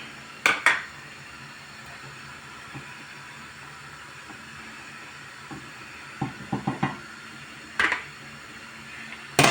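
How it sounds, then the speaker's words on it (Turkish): A lid is set down on a cooking pot of lentil stew, with sharp metallic clanks and rattles of the lid against the rim over a quiet kitchen hiss. "Kapağını şöyle kapatıyorum"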